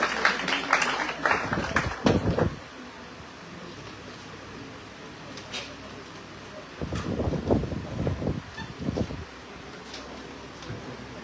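Audience clapping welcomes a contestant at a poetry recitation competition: a burst of applause at the start, a quiet stretch, then a second round of clapping, all over faint background rustle.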